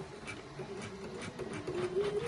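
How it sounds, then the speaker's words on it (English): An embroidery machine sewing a satin stitch around an in-the-hoop appliqué, a continuous fast mechanical patter with a steady motor whine, close and moderately loud. "that's a satin stitch, which is going to go all the way around this, and it's going to bury those raw edges"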